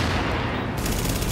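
Gunfire in the PlayStation 4 video game Tom Clancy's The Division, a loud continuous burst of shots with dense, steady rattling and no clear gaps, filling the short stretch on its own.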